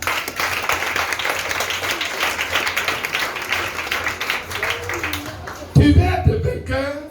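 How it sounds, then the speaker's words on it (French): A church congregation applauds at a sermon, dense clapping under a preacher's voice, then stopping as his speech resumes louder near the end. "Acclamons Jésus."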